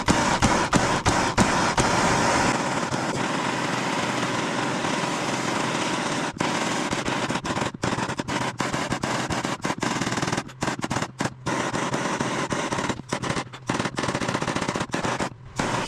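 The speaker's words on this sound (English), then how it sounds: "Now let me go get my torch." A handheld torch flame burns the surface of a woodturning project, giving a loud, steady roaring hiss with rapid crackling bursts and brief dropouts, heard alone without voices.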